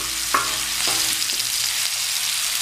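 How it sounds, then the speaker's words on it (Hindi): Onions frying in a pan until soft give a steady broadband sizzle, with a few brief stirring scrapes over the continuous hiss and no talk. "सिर्फ प्याज को इतना फ्राई करना कि सॉफ्ट हो जाए।"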